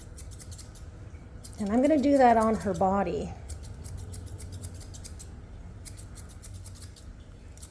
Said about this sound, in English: I think I'd like to go in with a more aggressive pair of scissors here.